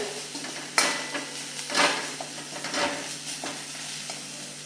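Dry-roasted, crushed spice mix stirred and sautéed in a pan for Shegaon kachori filling, a soft steady sizzle with several scraping stir strokes, close and moderately quiet, no voices.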